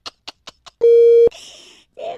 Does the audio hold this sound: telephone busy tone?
yes